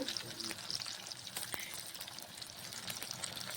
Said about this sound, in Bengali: কড়াইতে সাদা তেল দিয়ে এবার বড়ার আকারে ভেজে নেব